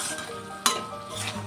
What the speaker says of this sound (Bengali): আলুটার সঙ্গে মশলাটাকে সুন্দর করে কষিয়ে নেব।